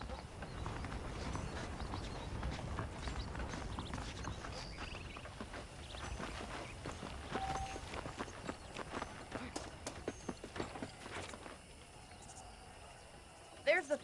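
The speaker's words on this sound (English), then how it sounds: "The horses are saddled up over here." Horse hooves clop in the Western video game Red Dead Redemption as saddled horses move along, a quick, uneven run of light hoof strikes over faint insect ambience and occasional game voices.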